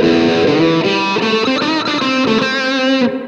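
An electric guitar played through a Blackstar Amped 2 pedal set to a valve tone rings out loud and distorted, a few sustained chords and notes with rich harmonics, alone without talk.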